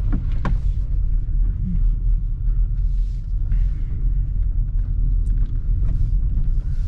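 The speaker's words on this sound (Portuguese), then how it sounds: "aqui que tá um pouco pior, você sente que o carro chacoalha bem" Heavy low rumble inside a Hyundai Tucson Turbo driving over a rough road, the cabin shaking and jolting with a few knocks and rattles throughout; no talking.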